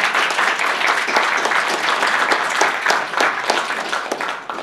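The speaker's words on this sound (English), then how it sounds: "I want to give them all a round of applause" An audience at a special education conference student panel applauds loudly, a thick, continuous patter of many hands clapping with distinct sharp claps scattered through, steady from start to finish.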